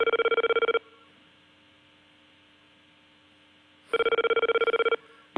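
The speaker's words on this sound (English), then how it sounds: "No, it's a fax machine." A fax machine answers a phone call with loud, steady electronic tones over a mains hum. One burst of tone cuts off, a long stretch of quiet line noise follows, and then a second burst sounds.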